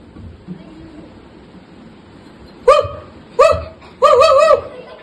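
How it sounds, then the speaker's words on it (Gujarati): A dog barks three times at close range, the last a quick double bark, over quiet background murmur. "આ કૂતરાનું મોઢું બંધ જ નથી થતું"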